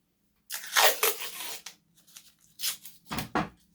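Tape is pulled and torn off a roll to join paper plates, several close ripping strips in quick bursts with short gaps, loud against silence.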